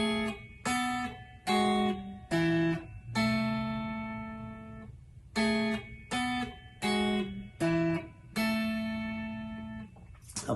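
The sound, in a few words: guitar melody in sevenths and octaves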